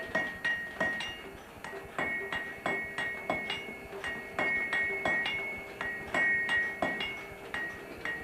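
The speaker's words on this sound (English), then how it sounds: "By hammering the bloom to drive out the slag" A blacksmith hammers an iron bloom to drive out slag, each blow ringing with a sharp metallic clang in a steady, repeated rhythm of strikes heard close up.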